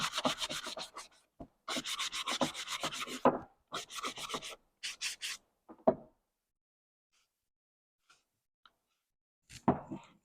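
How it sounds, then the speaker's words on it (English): Sandpaper rubbing a wooden picture frame to give it a worn look, heard as repeated close scratchy strokes in short bursts, then a quiet stretch with a few faint knocks. "sanded the frame, made just a little bit of wear, worn look"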